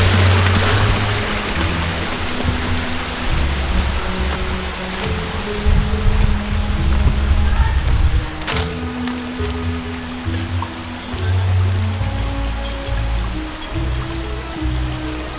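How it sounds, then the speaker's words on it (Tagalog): A river flows with a steady, broad rushing of water, close and fairly loud, its churn rising and falling slightly throughout with no talk over it. "Unang ilog, unang tawid."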